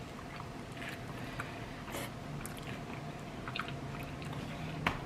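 Close, quiet chewing of spicy buffalo hot wings with sauce and ranch dip, soft wet bites and crunches at an irregular pace, no talking.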